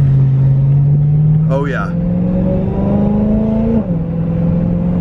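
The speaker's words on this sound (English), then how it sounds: "now let's open those valves. The valves are open and drive." A BMW M3 with an aftermarket Valvetronic exhaust, valves open, accelerates with a loud rising engine drone that swells steadily. A brief gearshift dip comes near the end, and someone speaks briefly over it.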